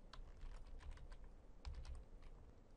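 Quiet, irregular clicking of keys being typed on a computer keyboard, short bursts of keystrokes tapped out in quick succession with no voices.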